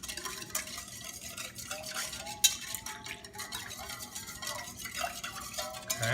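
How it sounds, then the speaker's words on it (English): A spatula stirs a squid and tofu stir fry in a pan with added water, giving soft continuous scraping, clinking and light sizzle, fairly quiet and close, with no talk. "Give it a stir."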